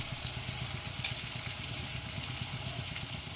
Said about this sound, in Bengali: আমি প্রায় বিশ থেকে পঁচিশ মিনিটের মতো এই ভুঁড়িগুলোকে ভেজে নিয়েছি